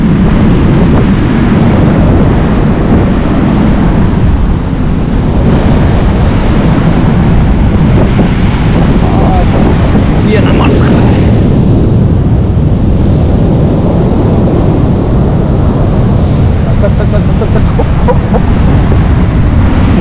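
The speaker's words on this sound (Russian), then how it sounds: "К сожалению, достаточно сильный ветер, друзья, очень сильный ветер" Strong storm wind roars across the microphone on the Dolphin beach at Lazarevskoye in Sochi, a loud, unbroken buffeting rush that likely also carries crashing surf.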